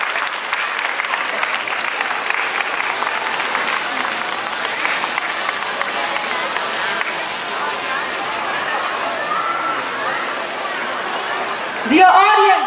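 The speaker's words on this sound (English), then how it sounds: "Dear audience, give a warm round of applause for Mrs." An audience claps steadily through a school event honouring staff, with dense, sustained applause that stays loud throughout, and a voice breaks in briefly near the end.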